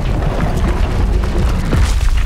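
A Confringo fire spell blasts in the video game Hogwarts Legacy, heard as a loud, sustained booming rumble with dense low-end crackle that swells again near the end.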